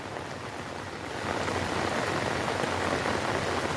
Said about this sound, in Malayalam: അത്യാവശ്യം നല്ല മഴ കേട്ടോ